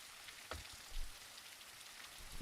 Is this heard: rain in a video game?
yes